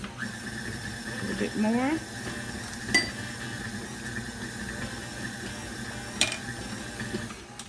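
An electric mixer whirs through chocolate chip cookie dough in a bowl, a steady mechanical hum with a few clinks against the bowl, while a person talks briefly over it.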